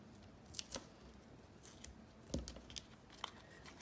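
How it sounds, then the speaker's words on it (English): Scissors snipping pieces of adhesive tape, several sharp close snips spaced unevenly over a quiet background, no talk. "I'm gonna cut up a couple pieces"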